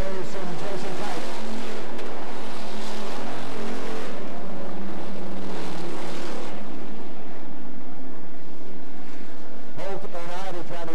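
Race cars roar past at Swainsboro Raceway, a loud, rising and falling engine pack sweeping by and fading, then another car's engine buzz returns near the end, with an announcer talking over the noise.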